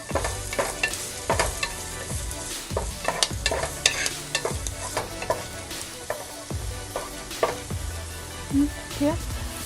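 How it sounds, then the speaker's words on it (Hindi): Curry leaves and slit green chilies sauté in hot oil for Chicken 65, giving a steady loud sizzle broken by repeated knocks and scrapes of a stirring spoon against the pan. "कड़ी पत्ता डालेंगे और अपनी स्लिट की हुई हरी मिर्च डालेंगे। थोड़ा सा सौते करेंगे।"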